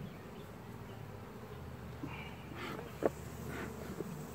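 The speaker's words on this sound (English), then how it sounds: "These bees right here don't really like to be messed with" A hive of aggravated honeybees buzzes late in the evening, a faint steady hum with a few brief louder passes of individual bees close by.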